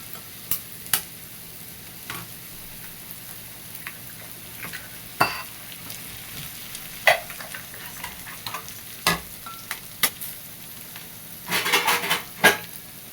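Eggs and onion are fried and stirred together in a pan for egg bhurji, making a low sizzle broken by sharp, irregular clinks and scrapes of a utensil against the pan, louder toward the end.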